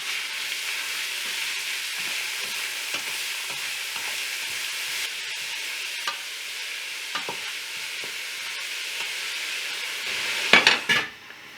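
Carrots, celery and onions sauteing in hot oil in a pot for lentil soup give a steady sizzle with occasional stirring scrapes, ending in a few clanks of a pot or lid, and no one speaks.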